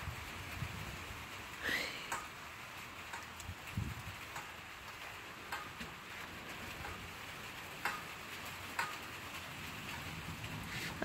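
Light rain patters steadily in a storm in Southern California, with scattered louder drips and ticks, fairly quiet and distant, with no voices.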